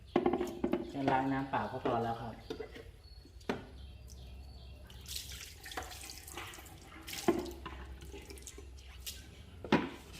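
Tap water rinses the inside of an Amway water filter housing, running and splashing intermittently near the microphone, with someone talking over parts of it and a clatter of plastic handling.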